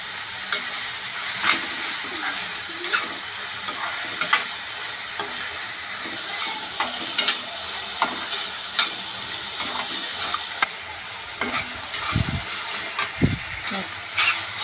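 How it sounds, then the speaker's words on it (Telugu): Onions with salt and turmeric fry in a pan with a steady hissing sizzle, broken by frequent scraping stirs and clinks, close and fairly loud; a voice speaks briefly in places. "బాగా ఫ్రై చేసుకోవాలి."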